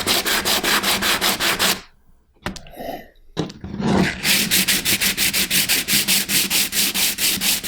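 Rhythmic back-and-forth sanding strokes on a cosplay prop, close and loud, pause for a few seconds of scraping handling noise, then resume at a steady quick pace.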